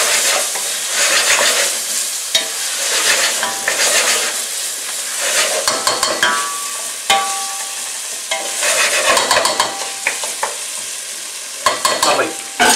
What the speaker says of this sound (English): get in with a wooden spoon and make sure you release all that